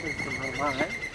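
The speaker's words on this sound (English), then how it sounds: "And that's the sound of an Iberian green woodpecker." A single Iberian green woodpecker call rings out, a short series of rising, laughing notes over a faint steady background tone, in El Retiro Park, Madrid.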